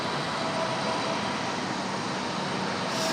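An airliner landing and rolling off the runway at Raleigh-Durham International gives a loud, continuous, broadband roar of engine and rushing air. The sound holds steady and close throughout.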